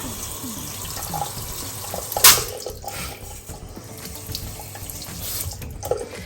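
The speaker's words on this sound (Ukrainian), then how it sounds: "Далі ми беремо звичайну кульку і набираємо в неї воду." Tap water runs from a household faucet into an ordinary balloon fitted over the spout, a steady close splashing rush with a brief louder gush partway through.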